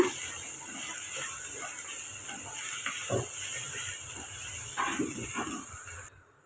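A steady hiss of okra sautéing in a pan, with soft scraping and stirring sounds rising now and then, fading abruptly at the end.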